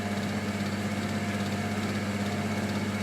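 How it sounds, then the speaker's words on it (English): A wood lathe running steadily during a washing dolly renovation, giving a constant motor hum with strong low tonal bands, no clear start-up heard. "we start the lathe up"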